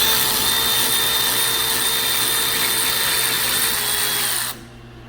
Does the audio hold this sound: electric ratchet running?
yes